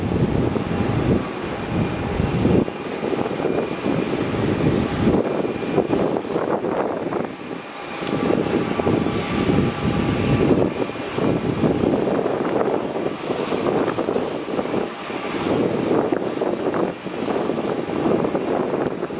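A Qantas Boeing 737 on final approach at Melbourne Airport, its engines a continuous loud roar heard close by, mixed with wind rumble on the microphone throughout.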